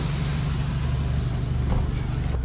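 Five-turbo truck on a ride along in Bangkok, Thailand: a steady, loud low engine rumble heard from inside the cab, with road noise over it and a hiss.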